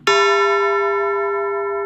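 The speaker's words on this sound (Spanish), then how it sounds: "Hemos construido el sonido de una campana de manera totalmente artificial a partir de sonidos más simples." A single bright, electronic bell tone synthesized by summing simple frequencies strikes once and rings on with a steady, slowly fading sustain, pure and clear with no other sounds.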